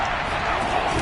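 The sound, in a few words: football stadium crowd cheering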